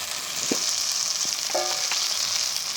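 Spice paste for a chicken liver curry frying in a pan, a steady close sizzle throughout with a few light stirring scrapes.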